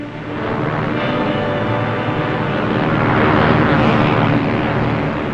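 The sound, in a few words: airplane flying overhead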